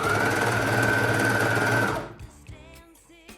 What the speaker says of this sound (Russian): Также притачиваем на оверлоке.